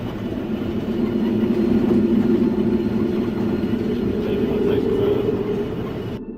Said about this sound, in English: The train is travelling slowly through the Australian countryside.